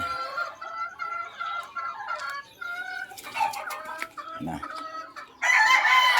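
Chickens, among them yellow-legged hens and a Boston bird, cluck in overlapping bursts, with a rooster crowing loudly toward the end; close and busy farmyard sound with no talking.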